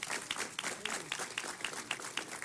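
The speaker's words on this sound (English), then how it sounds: "So give Coach a big round of applause." Scattered applause for a high school coach at a city council meeting, irregular individual claps rather than a full roar, fairly faint and distant.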